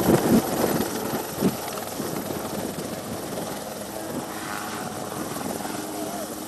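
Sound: rescue helicopter flying

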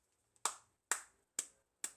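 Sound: clapping

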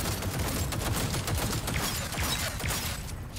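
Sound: gunfire in video game

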